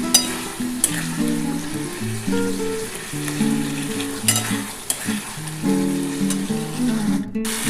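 Spiced masala sizzles and fries in a pan for a soybean and potato curry, with steady crackling sizzle, repeated scraping stirs and a brief loud clatter near the end.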